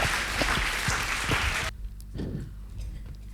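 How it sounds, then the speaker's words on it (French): An audience at a women's eloquence contest in Lubumbashi applauds in a steady, dense wash for under two seconds before it cuts off abruptly, leaving a quiet room with faint low noises. "Sous vos applaudissements, s'il vous plaît."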